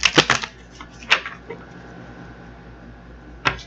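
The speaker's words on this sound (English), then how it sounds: "get this card shuffled up" Tarot cards are shuffled by hand in quick, crisp riffles and snaps. A burst of clicks comes at the start, a single snap follows, and a last riffle lands near the end, close and fairly loud with quiet gaps between.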